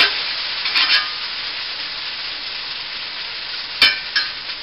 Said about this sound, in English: I stir them, okay, try and get as much turned over as I can so that the parts that are not touching the skillet will now touch the skillet